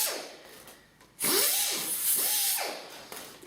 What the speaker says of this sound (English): all you're doing is just deburring the areas that are kind of sharp